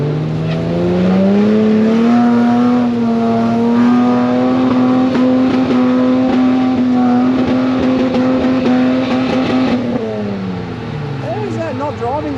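A 4WD stuck on a Victorian High Country track revs hard, its engine climbing and holding a strained, steady high note for about ten seconds before falling back.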